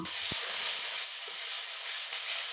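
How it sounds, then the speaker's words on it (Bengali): A paste of tomato, ginger and chili goes into a pan of frying onions and garlic, giving a loud steady sizzle and hiss of hot oil with a few faint stirring knocks, no speech. "পিঁয়াজ রসুন ফোড়ন আমার এগুলো ভাজা হয়ে গেছে আমি এখন যে টমেটো আদা মরুচ আমি বেটে রেখেছিলাম এখন এটা আমি দিয়ে দিব"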